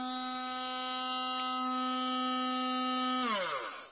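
A Daewoo SDA1944 wireless 50-watt blender runs with a loud, steady electric whine rich in harmonics, then winds down in pitch near the end as the motor slows.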